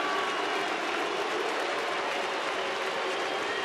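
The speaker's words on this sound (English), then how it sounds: "And a pretty good "you" chant going up along with the applause for you, Darvish." A large baseball crowd roars and applauds in a dense, continuous wash of noise, with a "you" chant, sustained evenly throughout with no clear pauses.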